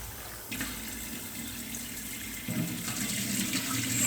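Wheat grains are rinsed under running water, with a steady close rush of water over the grain that grows slightly louder partway through and carries no talk.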